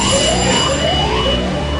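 Radiation alarm sounding in the control room of the Three Mile Island nuclear plant, a loud, continuous electronic tone with rising, siren-like sweeps that holds steady for the whole stretch with no talk over it.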